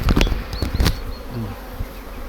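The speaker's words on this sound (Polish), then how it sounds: "otwarty ul, pszczoły sobie coś robią" A steady, dense hum of many Buckfast honeybees buzzing close by at an open hive, with a few louder individual bees passing near.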